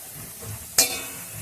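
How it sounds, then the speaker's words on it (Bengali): Spice paste fries on a low gas flame in a pan with fried onion, making a soft, steady sizzle with one sharp clatter near the middle. "লোতে রেখেই মশলাটা ভালো করে কষে নিতে হবে"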